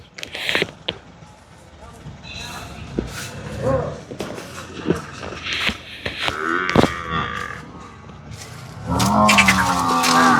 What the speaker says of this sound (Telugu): చూడచ్చు తరపి గేదెలు ఇవన్నీ. 3 గేదెలు ఇవి.